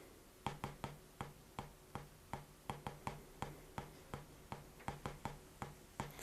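Crisp taps on a drum practice pad in steady rapid pairs, thirty-second-note diddles played evenly in a quick, tight rhythm, close and fairly quiet with no talking.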